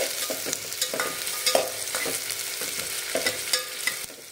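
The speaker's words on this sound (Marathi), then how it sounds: "कांदा थोडा छान परतून घेऊया" Small onion frying in oil in a pan for spicy green chilli kharda chicken, a steady sizzle broken by repeated scraping stirs of a spatula, close and fairly loud with no talking.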